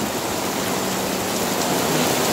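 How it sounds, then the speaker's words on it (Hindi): Steady rain pours down through an evening outing, a dense, even hiss that holds without a break from start to finish, with no voices heard. "ये बारिश का नजारा है ना, ये भी कमाल है।"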